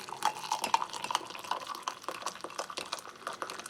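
A metal US MRE spoon stirs bouillon or stock-cube powder into about half a mug of liquid, giving a run of quick, close, light liquid clinks and taps with no talking.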